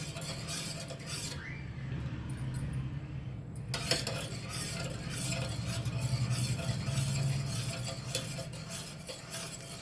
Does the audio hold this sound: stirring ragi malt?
yes